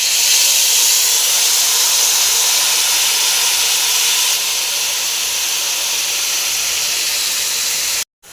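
Green tamarind pickle sizzles in hot tempered oil, giving a loud, steady hiss that runs unbroken for about eight seconds, eases slightly midway and then cuts off abruptly.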